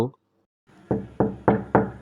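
Four firm, hollow knocks land on a closed door at an even pace after a short pause, loud and close, as a sound effect in a Bengali horror story.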